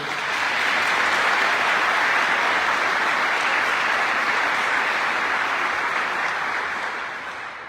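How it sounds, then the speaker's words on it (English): Steady, dense applause from a large audience honoring police officers and firefighters at a celebration of life, sustained and loud throughout before tapering slightly at the end. "We have our great police officers and firefighters here who also deserve a big round of applause for everything they do"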